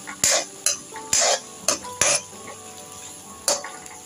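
A spoon stirs green masala and onions in a frying pan, giving several separate scraping, clattering strokes against the metal over a faint background sizzle.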